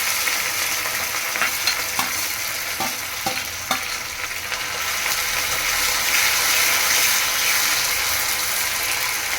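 Cumin seeds, curry leaves and dried red chillies sizzle steadily in hot oil, a continuous loud frying crackle with a few sharp pops and spatula clicks in the first few seconds.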